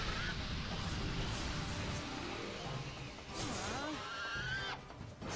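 Bird-type monsters in The Last Remnant video game let out shrill, honking, whinny-like cries that rise and fall over a dense, constant battle backdrop, one sweeping call standing out near the end.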